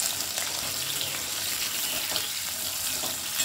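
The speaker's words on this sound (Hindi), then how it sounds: "ये आलू को मैंने कुछ इस तरह से लंबा लंबा स्लाइस कर दिया है, इसको ऐड करेंगे और हल्का सा इसको फ्राई करके लेंगे 2 से 3 मिनट" Long-sliced potatoes fry in hot oil, giving a steady, close bright sizzle with small crackles throughout and no talking.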